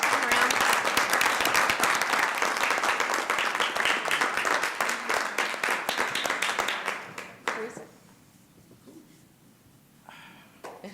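A round of applause at a city council meeting, many hands clapping loudly and steadily for about seven seconds before tapering off into quieter room noise and scattered voices.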